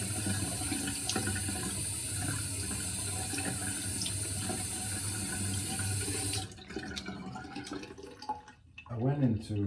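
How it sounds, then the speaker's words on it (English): Cold water runs steadily from a tap over a razor being rinsed. The flow is a close, constant rush that cuts off partway through, followed by quieter handling sounds. "I should be rinsing with cold water"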